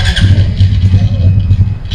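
A Suzuki GSX-R150 motorcycle with an RPM problem sounds as it is being started, giving a steady low engine drone that runs loud and close for the whole two seconds with no break.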